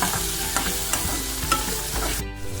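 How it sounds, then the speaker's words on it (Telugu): Fresh coriander leaves frying in a pan, a dense close sizzle with regular scraping and tapping from stirring, steady and loud until it fades at the end. "1 నిమిషం పచ్చివాసన పోయేంత వరకు వేయించుకోవడమే."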